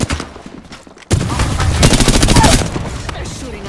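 Enemy gunfire erupts suddenly in Apex Legends after a quieter moment, a loud, close, rapid burst of shots that continues for about a second and a half and then fades out.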